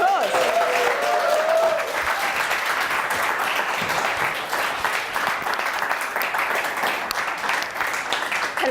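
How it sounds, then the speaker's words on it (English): Conference audience applauding a speaker taking the stage, a steady, full burst of clapping from many hands, with a short voice at the start. "Round of applause."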